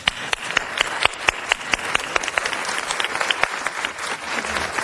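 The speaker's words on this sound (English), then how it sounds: "I'd like to give them all a very big round of applause" Audience applause at an award ceremony: many hands clapping in a dense, steady burst that holds at a fairly loud, even level throughout.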